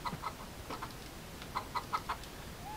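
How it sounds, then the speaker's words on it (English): Chickens cluck in a farming video game, with several short, fairly faint bursts spaced irregularly over a quiet, steady background. "Get my chickens inside."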